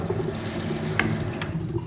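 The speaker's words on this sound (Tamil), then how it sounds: "இந்த மாதிரி தண்ணி திறந்து வர்றது பார்த்தீங்களா எப்படி அடிக்குதுன்னு தண்ணி அடிக்கிறது தெரியுதுங்களா" Water runs steadily from a kitchen sink tap in a newly built duplex house in Madurai, a close, continuous splashing stream with no talk over it.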